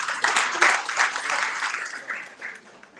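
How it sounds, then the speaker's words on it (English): An indoor audience at a book launch applauds, a dense burst of clapping that swells quickly and then gradually thins and fades over a few seconds. "Let's please give me a round of applause."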